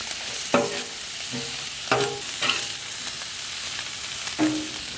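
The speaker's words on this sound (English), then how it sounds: "let's do the rest of that butter. Get these shrimp cooked up." Shrimp with the tails cut off cooking in butter on a home hibachi-style griddle: a steady sizzle broken by several sharp scraping, clattering stirs at irregular intervals, close up with no talking.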